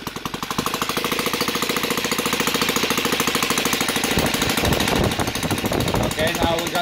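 An OS FT 300 twin-cylinder model aircraft engine converted to run on gasoline with ignition, running loud and close with a rapid steady buzzing chatter throughout and a rougher, irregular patch toward the end.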